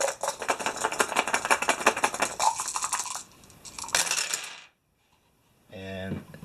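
Several dice rattle and clatter across a tabletop during a Mansions of Madness board game, a dense rolling burst of small hard clicks that settles into a brief silence before a short tonal chime.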